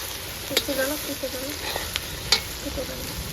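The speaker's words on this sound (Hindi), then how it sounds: "इसमें माँ लहसुन डाल रही है, क्योंकि माँ का कहना है लहसुन को अच्छे से पकाना है" Garlic sizzles in hot oil in a pan over a wood-fired clay chulha while a mutton curry is being cooked. A steady close frying hiss runs throughout, punctuated by a few sharp scraping clinks of a spoon stirring.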